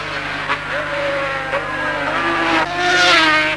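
1970s superbikes on a New Zealand racing circuit, a loud, close engine whine climbing in pitch as machines scream past, continuous and rising toward the end.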